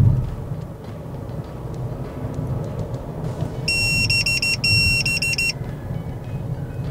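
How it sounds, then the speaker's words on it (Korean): Series of rapid high-pitched electronic beeps from a Mobon MDAS-9 dashcam forward collision warning, repeating in two quick bursts over steady road and engine noise inside a moving car. "전방 추돌 경보입니다."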